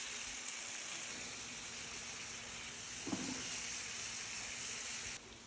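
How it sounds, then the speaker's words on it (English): Shrimp and chicken cook on a Blackstone griddle as a steady, broad sizzling hiss, with a brief soft clatter partway through before the hiss drops slightly. "so now I'm gonna go ahead and add my shrimp"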